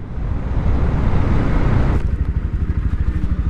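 A Bajaj Pulsar NS160 160 cc motorcycle cruising in fifth gear at about 45 km/h, with a steady, loud engine drone and wind rush from the riding position, easing slightly partway through.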